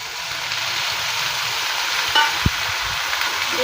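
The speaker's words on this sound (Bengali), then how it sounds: "ভালো করে কষিয়ে নেব।" Chilli powder, Kashmiri chilli powder, sugar, salt and turmeric with a splash of water sizzle steadily in a pan for okra and potato curry, a loud continuous fry with a couple of faint utensil clicks.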